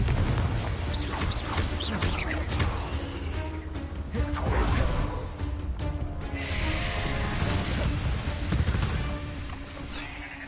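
Confringo fire spell blasts in Hogwarts Legacy on PS5 burst amid rapid combat, loud deep booms, crackling impacts and whooshes layered with battle effects for ten seconds, with a voice faintly under the din.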